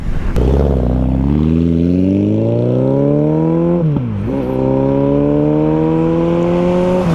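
A KTM Adventure motorcycle engine with an up-and-down quickshifter revs up steadily, snaps through a quick shift as the pitch drops, then climbs again, loud and close over wind noise.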